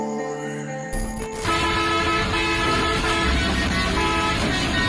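A bus horn on a road in Bangladesh blares in a loud, sustained honk, with the rumble of traffic continuing underneath.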